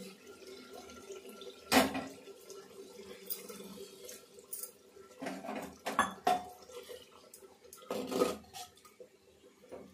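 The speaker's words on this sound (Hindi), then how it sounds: "अब इसमें डाल देंगे थोड़ा सा पानी" Faint splashing and trickling as water is poured into a metal pot of roasted mushrooms, with clinks of the pot and a few louder bursts over a quiet background.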